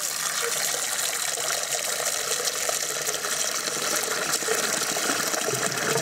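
Water runs and pours steadily from a tap as it is changed while cooking, making a continuous bright gushing splash with no pauses.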